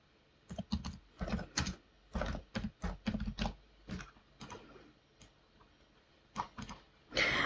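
Someone types on a computer keyboard in close, quiet bursts of rapid clicking keystrokes with short pauses between words.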